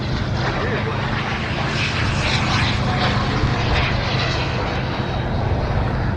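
A home-built Seawind model seaplane drones steadily overhead above a lake at an RC flying event, its propeller engine a continuous, fairly loud hum that holds level throughout.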